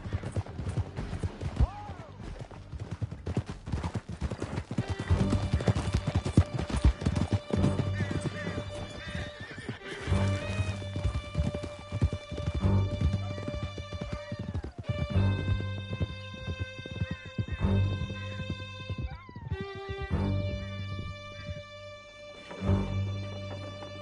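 Several horses gallop hard through a canyon in a steady pounding of hooves, with loud neighs and whinnies over a dramatic musical score.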